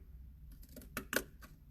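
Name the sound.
scissors cutting paper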